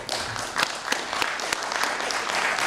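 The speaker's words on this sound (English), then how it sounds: "Let's give them a round of applause." Conference audience applause for a panel after their presentations: a full, steady burst of many hands clapping at moderate distance, sustained evenly with no talk over it.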